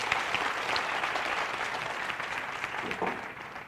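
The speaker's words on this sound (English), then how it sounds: "a big round of applause for the teams participating" An audience at a national quiz final applauds the competing teams, a steady, even patter of many hands clapping at moderate distance that holds throughout and thins slightly toward the end.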